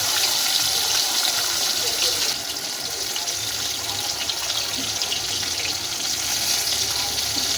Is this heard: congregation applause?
no